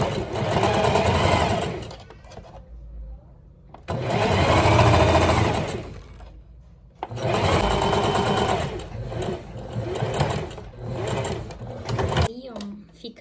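A domestic sewing machine runs a gathering seam along the top of a sleeve for a flower girl's dress, its close, steady whirr coming in three sustained bursts separated by short pauses.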